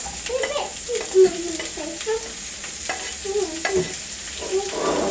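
Chorizo sizzles in a hot pan for a chicken, chorizo and potato salad, a steady close crackle broken by light clinks and stirring.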